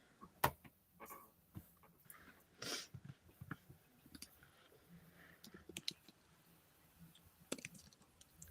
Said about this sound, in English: Having this keyboard right here is life-changing.